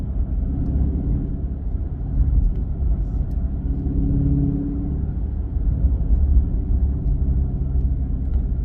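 A 2023 Chrysler 300C with the 6.4-liter HEMI cruises in sixth gear, giving a low, steady engine rumble inside the cabin that swells gently at moments without any hard revving.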